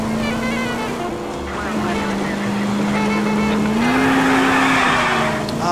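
A car is driven in the video game L.A. Noire, with a loud, continuous engine drone whose pitch rises and dips as the driver shifts speed, and brief tire squeals.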